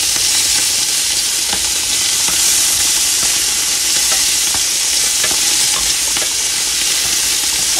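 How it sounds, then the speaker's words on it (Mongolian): Bacon frying in a pan for carbonara gives a loud, steady, dense sizzle and crackle that fills the whole stretch, with occasional scrapes of stirring and no talking. "Энэ одоо бекон хий. Ингээд бекон хийгээд. Тэг одоо ингээд жоохон хуурна."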